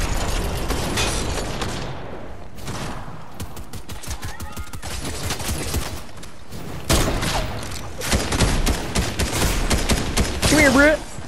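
Rapid bursts of gunfire in a video game match roll almost continuously for about eleven seconds, with brief lulls and heavier volleys toward the end.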